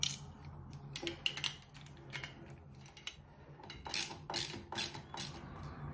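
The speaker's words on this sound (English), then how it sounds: "And just screw them in one by one." Screws driven into small plastic wall plugs in a bathroom wall, heard as repeated close ratcheting clicks and creaky twisting bursts in short uneven spells, fairly quiet overall.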